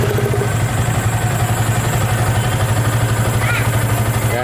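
A Yamaha Vixion motorcycle with an unstable idle runs close and loud at a steady rhythmic putter around 1500 rpm, with a constant mechanical clatter throughout.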